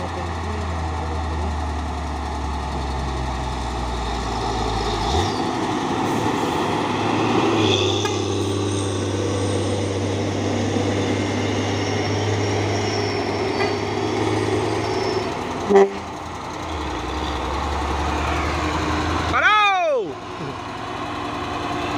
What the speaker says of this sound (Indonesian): di belakang ada lagi truk tangki CPO pemain Hino 500.